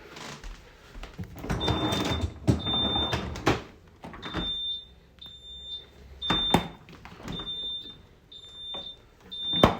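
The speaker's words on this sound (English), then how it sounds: "If you open any of the doors, it falls out and beeps" Short high electronic beeps from a Fisher & Paykel fridge showing an F20 error repeat at a steady pace, several in a row, over some clattering and muffled handling noise nearby.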